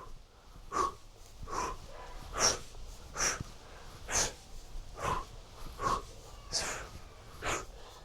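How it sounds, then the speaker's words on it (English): Rhythmic breathing during a warm-up exercise routine: about ten sharp, evenly spaced breaths or snorts, close and fairly quiet, with no talk over them. "With your breathing, you can mix the breathing up."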